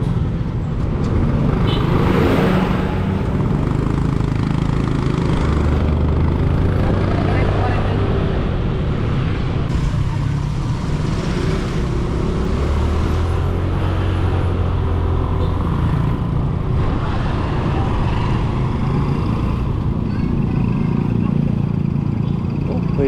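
Road traffic in the town of Nabua in the Philippines: a continuous rumble of passing motor vehicles, with engines swelling and fading, heard close by, under ongoing talk for about twenty seconds.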